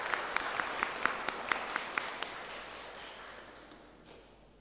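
Applause at a hospital's 92nd anniversary Mass, with distinct claps that are sharp at first, then thin out and fade into a softer room murmur.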